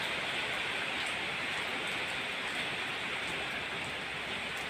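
Heavy rain pours steadily outdoors onto trees and surfaces after a long dry spell, a dense continuous hiss that stays loud and even throughout with no voices.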